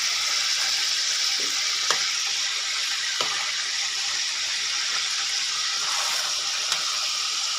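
Food fries in a pan with a steady, bright sizzle, and a few sharp clicks of a utensil break through now and then.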